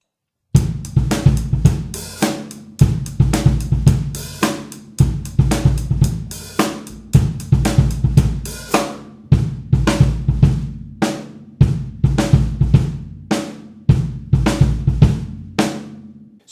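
A drum kit plays a funk-pop groove, with steady hi-hat, syncopated snare and bass drum hits repeating in a tight two-bar pattern, close and loud with no talking.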